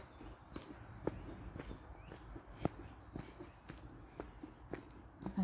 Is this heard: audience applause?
no